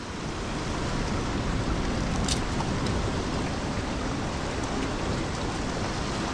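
Heavy tropical rain pouring steadily beside rock pools on a tropical island, a dense, loud, unbroken wash of noise with no pauses.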